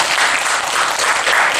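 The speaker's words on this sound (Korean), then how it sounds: "하나님께 영광 돌리는 박수 한번" A church congregation applauds together, a dense, loud and steady clapping that fills the room with no voices on top.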